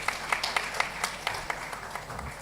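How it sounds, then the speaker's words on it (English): Applause from a conference audience at a Nigerian Bar Association business law event, a steady patter of many hands clapping with scattered sharper claps, moderately distant and fairly soft, with no voices over it. "A round of applause for him, please."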